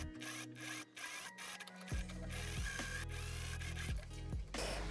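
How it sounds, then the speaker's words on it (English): A sewing machine topstitches a seam on a dirndl blouse with a steady, rapid mechanical whir and a rising motor tone, after a few quieter clicks and adjustments at the start, heard close and fairly quiet. "let's go ahead and do the top stitch on both sides"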